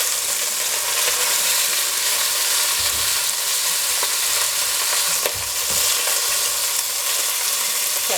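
Chicken pieces searing in a very hot pan for braising, a loud continuous sizzle with occasional scraping and shifting of the pieces, no voices.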